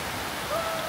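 Steady rain falls during a family outing in the Philippines, a dense wash of hiss and patter that lasts the whole short moment without any break.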